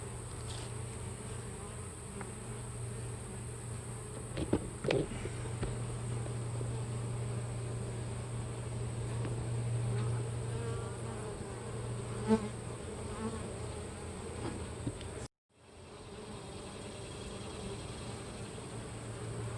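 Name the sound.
honey bees buzzing during a hive inspection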